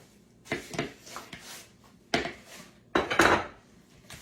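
Half the beans and corn go into a bowl for a cornbread salad, with several separate clattering scrapes and knocks of a utensil against the dish, clustered in a few bursts with quiet gaps between; no talk.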